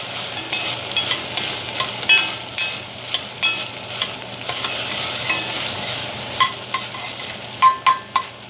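A spoon stirs thick chili with toasted tomato paste in a frying pan, giving close scraping strokes in an uneven rhythm over a soft continuous sizzle.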